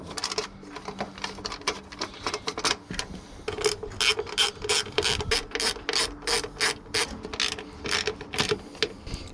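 A ratchet wrench tightening skid plate bolts on a 2022 KTM SuperDuke 1290 motorcycle, rapid close clicking in quick bursts with brief pauses between strokes, no talking.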